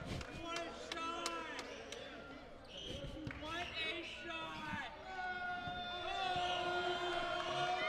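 A basketball free throw rattles in and out of the rim at a college game between the Miami RedHawks and Calumet College, giving a few sharp bounce knocks over a murmuring Millett Hall crowd.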